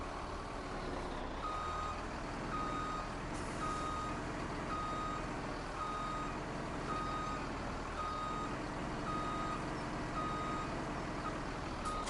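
Truck reversing alarm in Farming Simulator 17 beeps steadily and evenly throughout, sounding over a constant rumbling vehicle engine with no talk.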